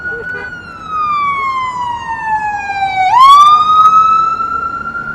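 A loud wailing ambulance siren sweeps down in pitch, then abruptly jumps up and climbs again, close by over low traffic rumble in New York City.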